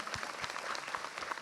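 A studio audience at a televised Islamic talk show claps briefly, a faint, even patter of hands.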